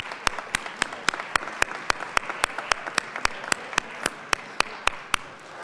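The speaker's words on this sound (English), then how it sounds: "So let's give her a round of applause." Sparse applause in the Colorado House chamber, a thin scatter of sharp distinct claps at a steady pace over a soft background of a few more hands, with no voices.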